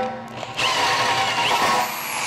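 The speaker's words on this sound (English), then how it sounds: "I'm going to use the step drill, and this one is going to go to 1/2 inch to allow the drill to go in" A step drill bores through an aluminum plate, starting with a sharp whir and settling into a steady high grinding whine close up, with no talking.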